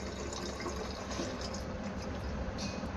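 Water poured from a cup into a vehicle battery cell, a quiet continuous trickle and fill heard close up with no talking.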